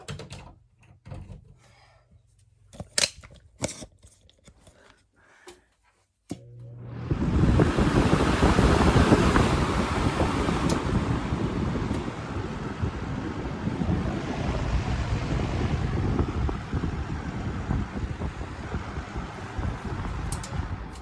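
A vintage Lasko Premium box fan is handled with clicks and knocks, then switches on and runs with a loud, steady whooshing roar of moving air close to the mic.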